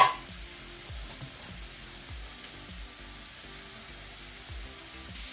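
Steady sizzling of food frying in a pan for Kabuli pulao, an even low crackle with faint stirring scrapes, alone without talk.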